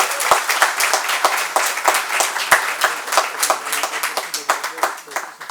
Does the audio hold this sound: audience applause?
yes